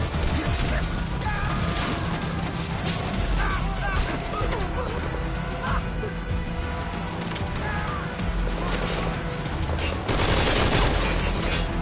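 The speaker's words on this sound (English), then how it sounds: "They brought a fucking tank?" A tank approaches in a Metal Gear game, heard as a loud, continuous mechanical clatter and grinding with rattling bursts and crashes, mixed with game sounds throughout.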